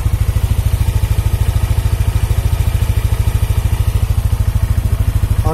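A Yamaha NMAX motor scooter engine idles steadily and close by, a fast even chugging pulse with a slight clattery rattle throughout.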